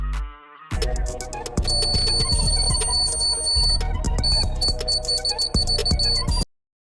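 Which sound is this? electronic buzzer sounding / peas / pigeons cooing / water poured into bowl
electronic buzzer sounding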